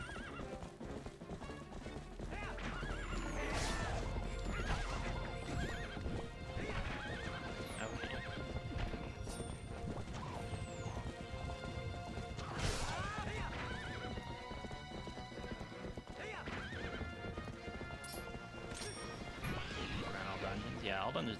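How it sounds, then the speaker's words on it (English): Horse hooves clip-clopping at a gallop, with repeated neighs and whinnies, in the video game The Legend of Zelda: Twilight Princess HD, loud over constant game music, with a crash as the horse slams into a wall. "Get on the horse."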